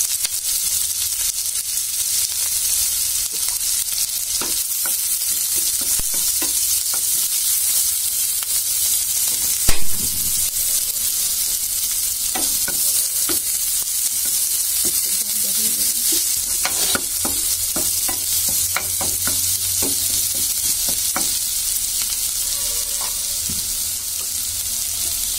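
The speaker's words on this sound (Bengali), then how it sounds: "পেঁয়াজ দিয়ে দিলাম।" Sliced onions frying in oil for a Bengali-style egg curry, a steady close sizzle throughout with occasional stirring scrapes and clinks.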